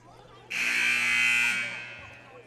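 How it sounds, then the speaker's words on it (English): A basketball game buzzer in a gym sounds once, a loud electronic tone lasting about a second before fading, with faint background hum and crowd noise. "There's the second buzzer."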